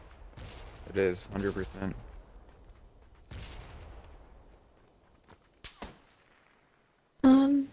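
Gunfire in the PUBG battlegrounds video game, a few sharp shots and cracks scattered between players talking, with a loud burst at the end.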